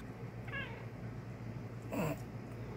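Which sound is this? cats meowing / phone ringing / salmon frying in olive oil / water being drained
cats meowing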